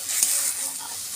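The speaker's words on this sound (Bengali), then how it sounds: "মশলাটা ভালো করে কষিয়ে নেব।" Spice paste for a jackfruit curry is stir-fried in a pan with a bright, close sizzle. The hiss holds steady throughout, with faint scraping from stirring, before it cuts off abruptly.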